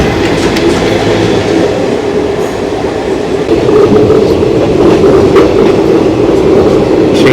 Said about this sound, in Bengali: ট্রেনটা কিন্তু একটা কার্ভ নেওয়া শুরু করেছে।